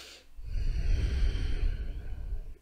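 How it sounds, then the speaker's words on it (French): A deep breath is drawn in and let out slowly, audible close up as a breathy rush with a soft sigh-like quality and no talking. "on va prendre une profonde respiration ensemble encore"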